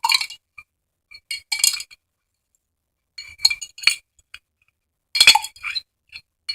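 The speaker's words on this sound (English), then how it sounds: "we're going to pick up these 2 pennies in the vinegar out of the vinegar" Copper pennies are lifted out of a dish of vinegar, giving a few short, sharp clinks in separate bursts with quiet gaps between them.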